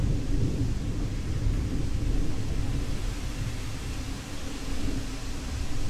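Low, continuous rumble of distant thunder rolling on steadily, with a broad hiss of background noise and no talking.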